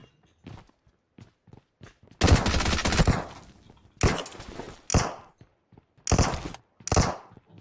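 Bursts of M416 assault rifle fire in PUBG, a long loud volley followed by several shorter sharp bursts, with faint footstep-like thumps scattered between them.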